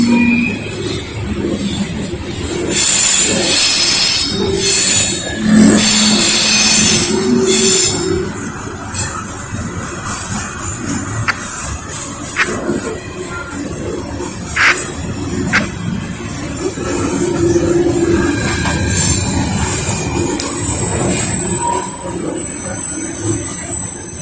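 A long CSX eastbound coal train rolls through downtown Lynchburg, Virginia, wheels squealing shrilly and clattering over the rails in a loud, continuous passing rush.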